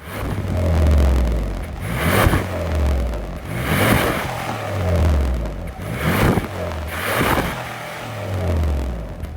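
A 2025 Hyundai Palisade's naturally aspirated 3.8-liter V6 revs hard again and again, about four rising-and-falling bursts of throaty roar close by, with no talking.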